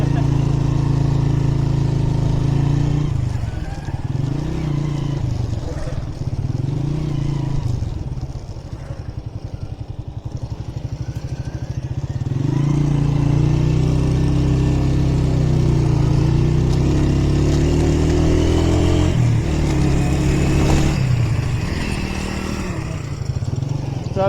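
A motorbike engine accelerates on a road crowded with livestock during a river flood, its loud drone rising and falling in repeated surges close by, with a steadier revving stretch in the second half.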